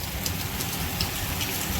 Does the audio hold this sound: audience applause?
no